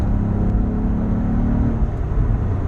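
Acura TL sedan engine rumbling steadily close by as the driver downshifts into third on back roads, a continuous low drone with slight revving and no speech.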